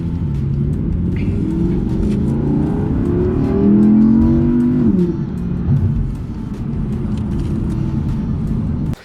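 Loud, continuous engine roar from a 2020 Audi R8 with a naturally aspirated 5.2-litre V10, rising in pitch as it accelerates hard, peaking mid-clip and then easing back to a steady drone.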